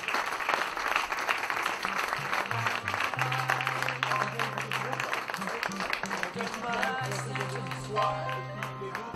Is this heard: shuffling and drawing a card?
no